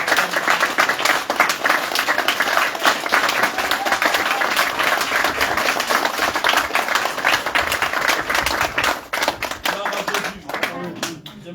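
Congregation in a church applauding in praise, loud sustained clapping from many hands filling the room, with voices mixed in and the applause thinning toward the end.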